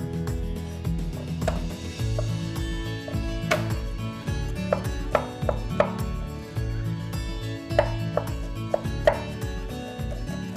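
A single garlic clove chopped on a board with a knife, giving a run of sharp knocks in uneven bursts, some louder than others, over a low steady background hum. There is no talk.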